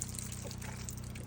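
A Geyser Systems shower runs water through its line on a Skinny Guy truck camper, giving a faint, steady hiss and trickle with no break.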